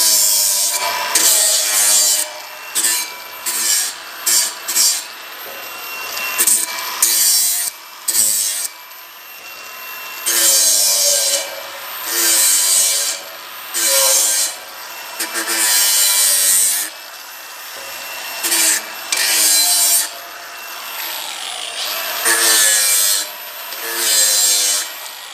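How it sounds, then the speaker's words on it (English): An angle grinder deburring the cut end of a steel tube, inside and outside edges, for a steel-frame house build: a series of loud, harsh grinding bursts of varying length, close by, with short pauses between passes and no talk. "So I just give the end a quick grind just to take this little burr off inside and outside."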